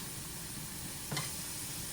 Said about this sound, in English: Kind of stir this around and get everything warmed through.